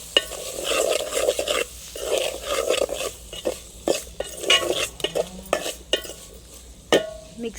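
A spoon stirs and scrapes through country chicken curry with broad beans in a metal pan, irregular clanks and scraping strokes over a soft sizzle, close and fairly loud, with a sharp metallic knock near the end.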